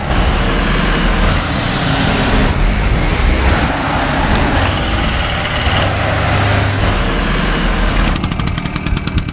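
Busy street traffic on the island of Capri, a continuous loud roar of engines and vehicles passing close by, with heavy rumbling and a rattling, hammer-like mechanical clatter throughout, no talking.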